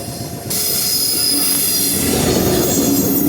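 A train pulls into a station, its wheels letting out a loud, sustained metallic squeal that starts abruptly after a brief quieter moment and holds to the end under a heavy rolling rumble.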